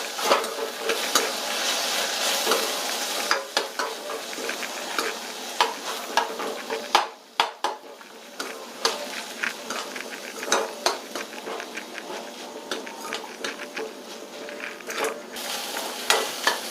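Vegetables for semiya upma sauté in a pan with a splash of water, giving a soft continuous sizzle. A spoon scrapes and stirs through it in frequent light knocks, up close and without talk.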